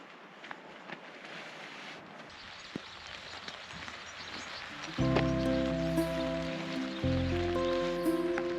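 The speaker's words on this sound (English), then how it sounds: "So rather a damp start to day 14. It's raining" Rain falling on a campsite, a soft steady patter of drops with occasional louder taps, joined midway by a low humming tone.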